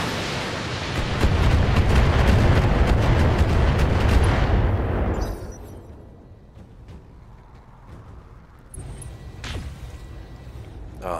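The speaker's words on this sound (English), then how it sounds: "I'm just going to fire the LRMs from here" A volley of LRM missiles launched by a mech in the BattleTech video game: a loud, dense rumbling roar of launches and blasts for several seconds, then quieter scattered impacts and thumps.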